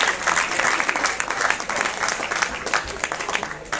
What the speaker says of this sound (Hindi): तालियां बजती रहे इनके लिए